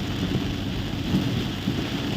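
Torrential evening thunderstorm rain pounds a moving vehicle on a road near Saraburi, Thailand, a loud continuous drumming with deep low rumbles underneath and no talking.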